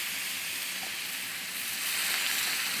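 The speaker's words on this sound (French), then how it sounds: "Donc là, j'ai déglacé avec le porto." A pan hisses and sizzles steadily while being deglazed with port wine during beef preparation, a continuous broad frying hiss that grows slightly louder toward the end, with no speech over it.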